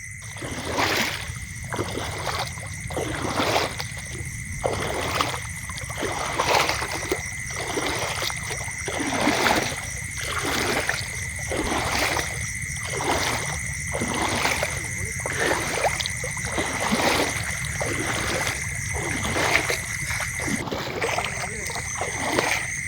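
A cartoon boat glides across water, with steady rhythmic splashing of paddles roughly once a second, set against sustained tonal music throughout.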